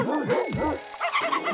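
A dog barks in the puzzle video game Bokura, giving a few quick, close, pitched bark-yips in a short burst, with other game sounds around them.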